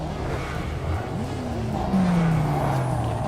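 Car braking and driving in Test Drive Unlimited Solar Crown: a steady engine drone under road noise, with a rising then falling tone and a brighter whine in the later half as the car slows.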